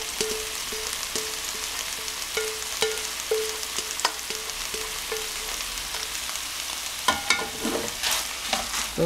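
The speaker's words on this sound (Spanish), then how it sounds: "Revolvemos esto muy bien." Onion, bell pepper and potato sizzle as they are stirred in a frying pan with chicken that has already been browned; a spatula scrapes the pan in a steady, repeating rhythm over a continuous close hiss.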